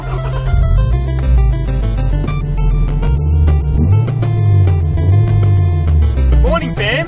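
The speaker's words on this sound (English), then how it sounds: "So I believe that's my alarm." A phone alarm plays a loud, busy electronic melody over a deep, sliding bass line, sounding steady and close throughout the clip with no talking.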